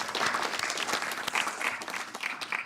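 Audience applause for an award recipient at a university teaching excellence ceremony, a steady, even roar of many hands clapping throughout, heard at moderate distance.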